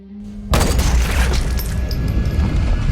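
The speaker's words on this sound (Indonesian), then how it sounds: "Ternyata yang ditembak adalah orang yang ada di samping Terry" A single sharp gunshot in an action film cuts in abruptly after a quiet moment, followed by a loud, dense rumble that lingers to the end.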